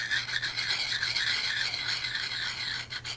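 A turning tool is honed on a 300 grit sharpening stone with a slow rotation, giving a steady, close, continuous rasping scrape with slight rhythmic swells throughout and no voices.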